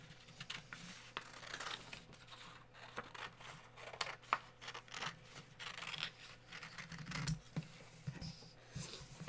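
Scissors cut out a paper alligator with a fast run of small snips, crinkles and rustles of the sheet, close and fairly faint over a low steady hum, with no talk.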